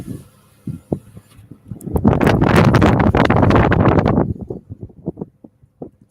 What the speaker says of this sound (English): So you can pretty much hear the wind